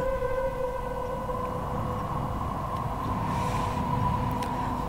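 A wailing ambulance siren drones steadily from a distance over low traffic rumble, its tone holding without a break.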